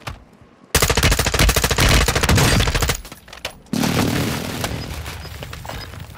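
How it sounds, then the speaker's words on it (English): Precision airstrike in Call of Duty: Modern Warfare II: a sudden loud burst of rapid, rattling gunfire-like blasts, a brief lull, then a second heavy explosive roar that slowly decays. "Friendly precision airstrike inbound."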